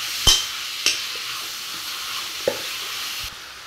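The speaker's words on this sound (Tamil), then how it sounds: "சிக்கன் 1/2 கிலோ அதில் போட்டுருங்க. நல்லா கிளறி விட்டுக்கோங்க." Half a kilo of chicken is stirred into sautéed masala for chicken curry, a soft frying hiss under a few sharp spatula scrapes against the pan.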